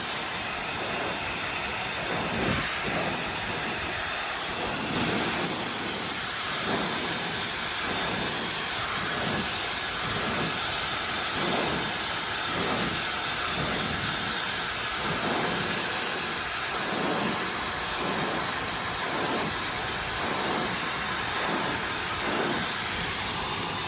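A LAMPICK high-speed hairdryer blows on its high setting with a loud, continuous broadband rush of air, pulsing rhythmically as the airflow shifts close to the microphone.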